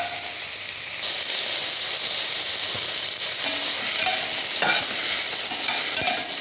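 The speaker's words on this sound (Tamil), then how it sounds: "கொஞ்சம் வதங்கட்டும்." Onions and spices sautéing in a pan for a fish curry make a steady close sizzle with a few scrapes and taps of a spoon stirring them, and nobody speaks.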